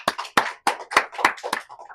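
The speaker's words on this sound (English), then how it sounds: "Could we give a round of applause for Abigail?" A small classroom group claps for Abigail, producing about seven sharp, distinct hand claps in an uneven rhythm. They sound close and moderately loud, with no talking over them.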